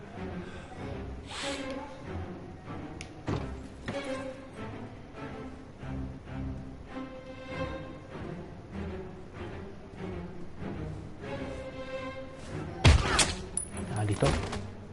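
Bursts of rapid gunfire in the video game Heavy Rain crackle over a busy game soundtrack, ending in several loud, sharp shots near the end.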